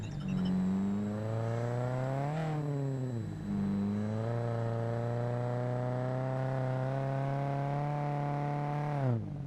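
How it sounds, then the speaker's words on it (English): A rough, buzzing video-game car engine with a broken exhaust revs up and down in a synthetic tone, its raspy drone rising and falling steadily. "Definitely sounds like the exhaust has gone"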